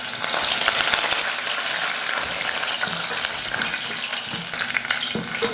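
Garlic cloves and mustard seeds fry in hot oil for a tomato thokku, giving a steady, close sizzle and crackle with occasional stirring scrapes and no talking.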